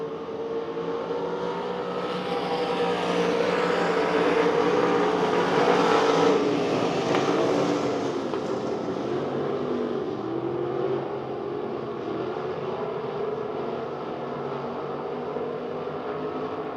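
USRA Limited Modified race cars run a heat race on the dirt oval at Devil's Bowl Speedway, a steady distant engine roar that swells around the middle and eases off, with no talk over it.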